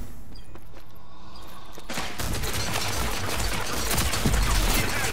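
A PS4 online shooter plays a rapid burst of gunfire that starts suddenly after a quieter stretch and runs on as dense, loud, close shots.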